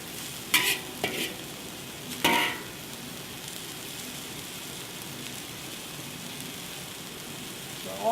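Egg noodles with dried scallops being stir-fried in a pan, a soft steady sizzle broken by a few sharp scrapes and clatters of stirring near the start, then a quieter continuous frying hiss.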